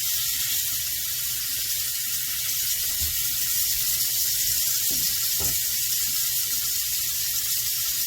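A rib eye steak sizzles in butter in a hot pan, giving a steady, close hiss with a few soft pops and clinks.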